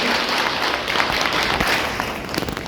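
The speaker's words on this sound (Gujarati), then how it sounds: "માનનીય મીરાબેન પટેલ મેડમનો આપણે આપણા કાર્યક્રમમાં તાળીઓથી ખૂબ ખૂબ સ્વાગત કરીએ" Dense, sustained applause from an audience welcoming the honourable guest Meeraben Patel at a school event at Swami Vivekananda Vidyavihar in Gandhinagar, loud and steady throughout with no talk over it.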